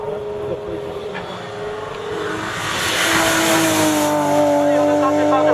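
A BMW M3 Group N race car climbs the Gavray hill climb course. Its engine note starts moderate, then rises and swells louder as it accelerates past, while a commentator talks over it.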